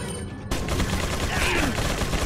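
A shotgun fires in Resident Evil 4 inside a fort, a sudden loud blast followed by a dense, noisy roar of game sound that stays steady for the rest of the moment.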